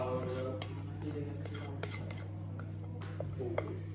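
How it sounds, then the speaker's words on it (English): A spatula scrapes Swiss roll mixture from a bowl in a kitchen, a few short, soft scraping strokes over a steady low hum, faint and close. "that'll get every last little bit of mixture out that bowl"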